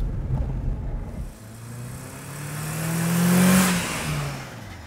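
A car engine runs smoothly after a catalytic converter repair for a P0420 code, idling near the listener and then revving up and easing back down once, a steady mid-pitched drone with no talk.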